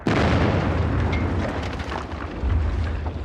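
Massive WW1 artillery barrage rumbling continuously, deep booming shell explosions rolling over one another at close range with no pauses, loud throughout.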